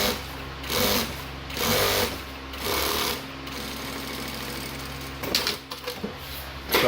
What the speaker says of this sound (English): you sew down your edge of your material with whatever seam allowance you normally use